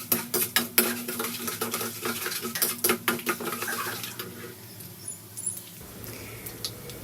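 Mustard seeds, chana dal, curry leaves and peanuts frying in oil, with rapid crackling pops and metallic stirring clinks against the pan that thin out toward the end.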